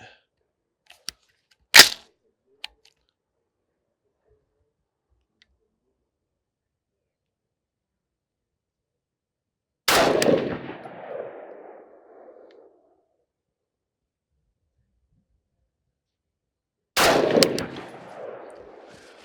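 Two heavy gunshots from an SPR rifle boom out at an outdoor range, each followed by a long fading echo, spaced several seconds apart after a few faint clicks and a sharp crack near the start.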